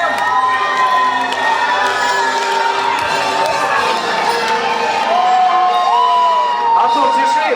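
Noisy audience at the Mister INZHEK 2012 pageant, with sustained cheering, high squealing whoops and shouting over a constant roar of crowd noise, loud and close throughout.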